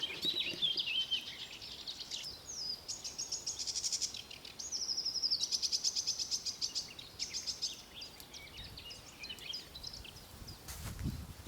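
Birds sing along a footpath between tall hedgerows and open fields, giving bright, rapid repeated chirps and trills in overlapping phrases, fairly close and continuous over quiet outdoor ambience.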